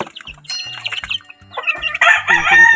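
A hen and a rooster eating feed given to chicks, with close, loud rapid clucking and short calls in an irregular rhythm that build in the final second.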